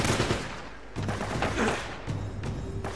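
Dense gunfire and explosions from the video game Uncharted: Drake's Fortune, a continuous loud clatter of rapid shots with heavier bursts throughout.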